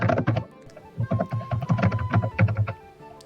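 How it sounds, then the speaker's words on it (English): Someone types furiously on a computer keyboard, a rapid close-up clatter of keystrokes and heavier thunks during a tabletop role-playing session. "typing furiously."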